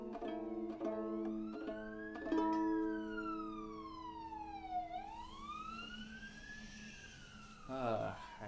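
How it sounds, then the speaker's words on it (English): A siren wails nearby during a live-streamed old time fiddle performance, its pitch sweeping slowly up and down over several seconds as a few plucked or bowed notes sound at the start. "Got these nice siren accompaniments."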